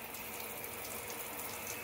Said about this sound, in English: I'm just gonna rinse all this dirt off.